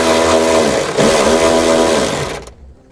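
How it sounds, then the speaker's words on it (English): A power tool drives a 10mm socket to remove a bumper bolt on a 2015 Toyota Prius, giving a loud, close, continuous whirring buzz that holds for about two seconds and then stops abruptly. "we'll grab a 10mm socket and we'll take that bolt out"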